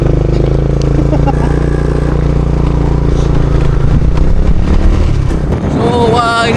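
A motorcycle engine drones steadily while riding, loud and close with wind buffeting the microphone, its pitch dipping slightly near the end as people talk.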